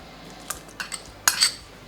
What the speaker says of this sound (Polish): I wszystko dokładnie mieszamy